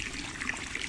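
Water trickling from a drinking mineral water fountain in Bad Cannstatt, a soft steady splashing stream heard close and alone for about a second.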